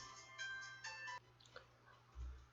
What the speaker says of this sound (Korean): 전화가 왔어